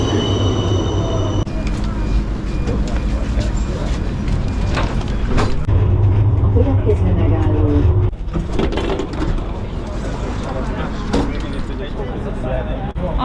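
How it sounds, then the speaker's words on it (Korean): Rumbling rail vehicle noise of a tram ride, steady and loud, with low engine hum and occasional clunks, while people talk nearby throughout. "우리는 트램을 타고 가기로 했다"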